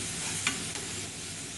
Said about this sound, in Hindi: अच्छे से हम मिक्स कर लेंगे।